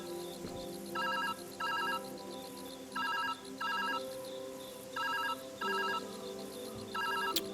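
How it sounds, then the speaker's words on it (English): A phone ringtone rings in repeated short electronic double bursts, about six rings over several seconds, moderately loud over a steady low hum with no talking. "My phone's ringing."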